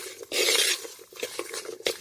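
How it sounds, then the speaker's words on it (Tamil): Curry leaves and onion being sautéed in a clay pot for village-style fish curry: a spoon scrapes and stirs in irregular strokes over a faint sizzle, close up and without talk. "நம்ம உருவன கறிவேப்பிலை நான் 2 கொத்து அளவுக்கு சேர்த்திருக்கேன் அதையும் சேர்த்துட்டு நல்லா வதக்கி விட்டுக்கணும்"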